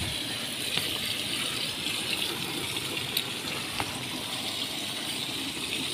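Water gushes steadily from a spout fed by river water inside a cave, a continuous loud rushing wash with occasional faint clicks and rattles throughout.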